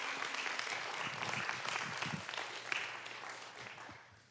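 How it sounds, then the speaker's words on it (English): A congregation claps at a Pride Shabbat evening service to welcome someone to the bima. The dense, steady applause sounds moderately distant and tapers off toward the end. "it is not inappropriate to applaud if we are welcoming someone to our bima"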